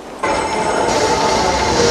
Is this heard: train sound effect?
yes